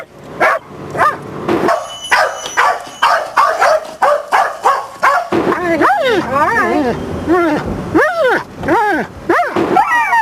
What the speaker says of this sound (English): They just bark and bark. Bark and bark and bark.